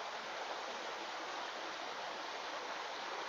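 A river in Ngawi flows steadily in a broad, even rush of water that stays constant and fairly close throughout, with no voices.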